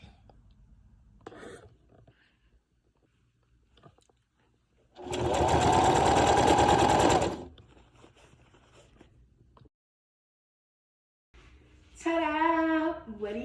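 Sewing machine stitching ruffles onto a T-shirt, a loud steady whir lasting about two and a half seconds, with a second short burst of stitching near the end amid quiet handling sounds.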